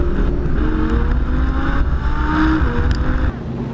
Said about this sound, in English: we hit the first corner here at Willow Springs bloody quickly